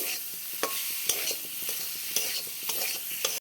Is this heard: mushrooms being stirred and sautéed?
yes